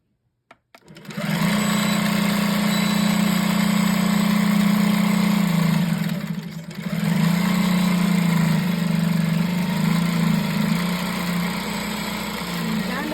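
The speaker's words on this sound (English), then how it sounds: "pull the bobbin and just sew a straight stitch all the way across" A longarm quilting machine runs steadily, sewing a straight stitch across quilt backing; a loud, continuous motor hum with a brief dip midway, close and alone.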